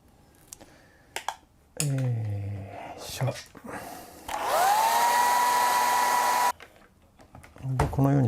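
A hair dryer drying a wet-in-wet watercolor painting of an autumn forest, switched on in two loud, steady whirring bursts, the second longer, with faint brush and paper handling sounds in between.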